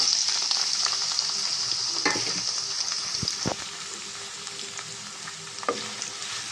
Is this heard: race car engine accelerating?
no